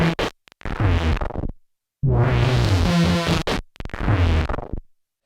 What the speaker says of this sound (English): listen to me switch on the Banana Effects pedal